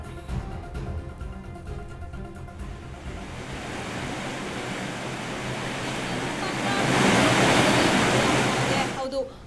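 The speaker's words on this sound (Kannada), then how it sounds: "ತುಂಗಾ ಜಲಾಶಯ ಮೈದುಂಬಿ ಹರಿತಾ ಇದೆ" Water from the overflowing Tunga reservoir pours through the nine open crest gates of the dam in Shivamogga, Karnataka, a dense continuous roar that swells louder toward the end before cutting off.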